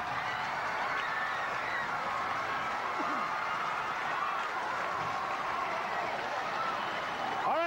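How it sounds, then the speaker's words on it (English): Crowd noise at a 1978-79 Sussex Hamilton high school basketball game during a timeout, a continuous roaring mix of cheering and clapping in a gym, with voices in the crowd. "listen to this crowd."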